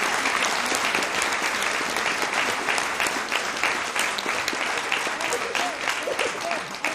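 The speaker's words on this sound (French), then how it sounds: "Vous pouvez les applaudir." Audience applauding the team behind a theatre play, a loud, sustained burst of many hands clapping in a hall, with sharp individual claps standing out from the continuous roar.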